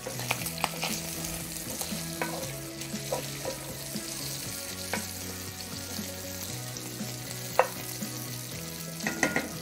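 Bacon frying on a grill, a constant crackling sizzle with scattered sharp pops and spits, close and steady over a low droning hum that changes pitch in steps.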